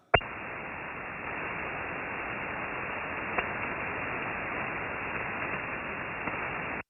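Continuous band-limited hiss of amateur radio static on an open channel, steady and fairly loud for several seconds with only a couple of faint clicks and no intelligible reply.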